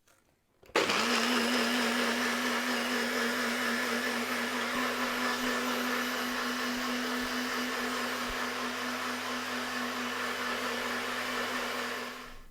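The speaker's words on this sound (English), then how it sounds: "So I want to blend that on my blender for about 60 seconds." A blender starts up and runs with a loud, steady whirring drone for about twelve seconds before cutting off, blending a turmeric and ginger vegan latte.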